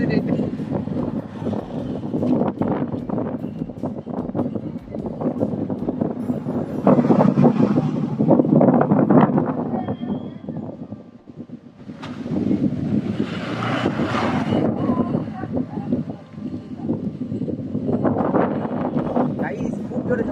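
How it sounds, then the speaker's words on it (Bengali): A fierce storm wind roars in heavy, uneven gusts, surging loud then easing briefly before rising again, with a person talking through the buffeting. "গাইস খুব জোরে ঝড়ে সব বাড়ি পালাচ্ছে।"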